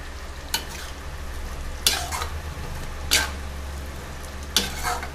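Besan soybean curry cooks covered in a pan on the stove, a low steady sizzle and bubbling hum broken by four soft, brief scraping stirs spaced a second or so apart, close and without voices.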